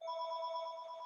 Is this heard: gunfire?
no